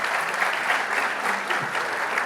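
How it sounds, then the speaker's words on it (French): Dense, even applause from a conference audience clapping for a round-table panel of speakers, sustained and fairly loud throughout with no voices over it. "qui méritent, je pense, vos applaudissements"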